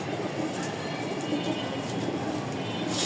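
Racing pigeons coo softly and repeatedly against a steady background rumble, fairly close, with no one speaking.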